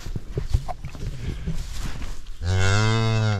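A cow on a cattle farm gives a loud, close, drawn-out moo near the end, after a stretch of shuffling and scattered handling noises; no talk over the call.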